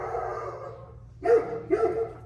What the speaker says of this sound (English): What is that dog tripping off of?